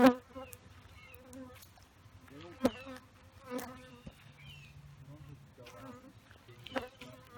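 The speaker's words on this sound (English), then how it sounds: "This one bee likes my phone." A single honeybee buzzes close around a phone, its whine rising and falling as it darts near and away, with a few sharp taps and clicks.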